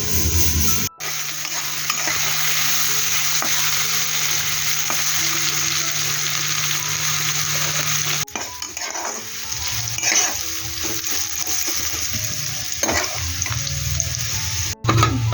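Vegetables and soybean chunks cook with water in a pan for curry, giving a steady close sizzle and bubbling throughout, with occasional stirring clinks and scrapes; no talking.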